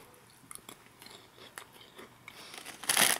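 Crisp crunching bites of a crispy puffed snack with prawn cocktail flavor, a few irregular chews that build to a loud, close crunch near the end, with no talking.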